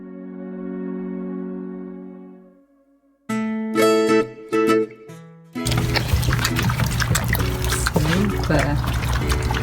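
Running fresh water outdoors in Skagway, Alaska, a steady broadband rush of flow that starts abruptly after some tonal, ringing sounds and then continues unbroken.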